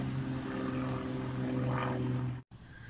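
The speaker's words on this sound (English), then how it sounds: "Oh, noisy airplane flying overhead." Propeller airplane flying overhead above a river where a kayaker watches alligators, a loud steady droning engine hum that swells and fades, heard alone.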